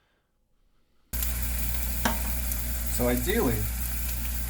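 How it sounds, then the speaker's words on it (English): Thinly sliced honey turkey ham fries in a pan, a steady loud sizzle that starts abruptly after a quiet moment, with a voice talking briefly over it. "while your ham is frying and your stuff is going"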